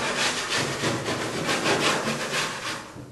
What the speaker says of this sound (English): I'm just going to scrape on this just a little bit